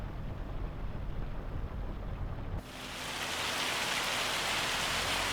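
Hail drums on a tractor cab roof in the Farming Simulator 25 video game, first muffled and low, then a sudden switch to a bright, loud, dense hiss of pelting ice that continues steadily.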